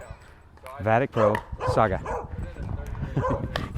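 A dog barks and yips several times nearby, the sharp barks overlapping with a person talking.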